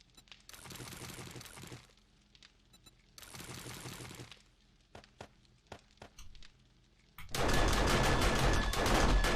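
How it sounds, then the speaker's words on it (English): Gunfire in the survival video game 7 Days to Die: two sustained bursts of rapid automatic fire, a few scattered single shots, then a loud dense stretch of continuous firing at the end. "What the hell are you shooting at?"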